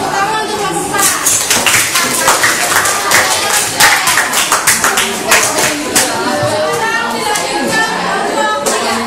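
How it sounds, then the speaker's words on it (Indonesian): Classroom applause for a student group at a junior high school in Jakarta, a dense steady patter of many hands clapping for several seconds with voices mixed in. "Tepuk tangan untuk kelompok 4."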